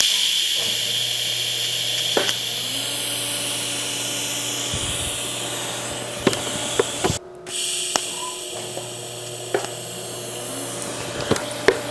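A TIG welder tacking stainless steel sanitary tubing, with a steady electrical hum and soft gas hiss broken by a few short clicks and a brief pause midway.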